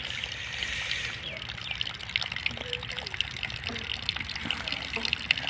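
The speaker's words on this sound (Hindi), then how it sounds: "आवाज़ टक टक टक टक दी परनाले दी आ रही है," Rainwater trickles and drips from a roof drain spout, a faint steady splashing and pattering with scattered small drips, heard from fairly close in quiet surroundings.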